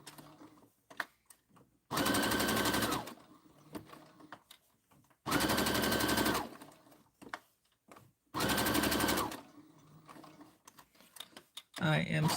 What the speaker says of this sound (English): So we're gonna do the stitch again around.